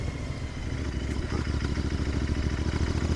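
A Royal Enfield Interceptor 650 twin-cylinder engine runs with a loud, rhythmic, pulsing chug and clatter from close by, the firing beat holding steady and slightly quickening toward the end.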